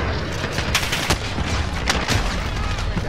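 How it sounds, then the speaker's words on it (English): Shotgun blasts in a Star Wars video game, several heavy booming shots spaced irregularly over a rumbling background of battle noise. "Why are you using a shotgun?"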